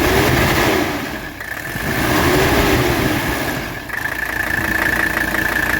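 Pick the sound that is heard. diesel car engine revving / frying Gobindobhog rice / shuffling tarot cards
diesel car engine revving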